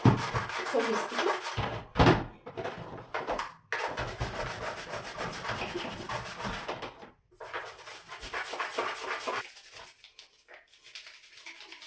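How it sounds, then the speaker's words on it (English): Scrubbing inside a sticky, soap-coated washing machine drum: repeated rubbing and brushing strokes with a few knocks and brief pauses, close by. "You're going to scrub until it's totally clean for your liking."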